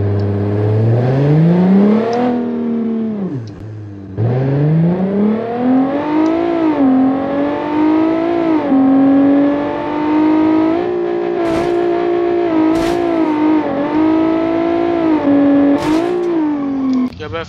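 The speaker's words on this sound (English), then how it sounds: "I straight piped it, so it should be loud." A straight-piped car engine in the BeamNG driving game revs loud and close, its pitch climbing steadily, dropping briefly as if shifting, then climbing again in a continuous, uninterrupted drone.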